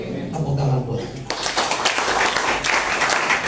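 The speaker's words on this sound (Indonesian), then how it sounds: "Tepuk tangan buat kita" A church congregation breaks into dense, loud clapping that builds quickly after a spoken line, and the applause keeps going as a steady wash of claps.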